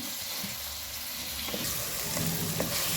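Chopped tomato and ginger hit hot oil with softened onions in a pan, giving a steady close sizzle with a few stirring clinks and a slight swell in the crackle toward the end.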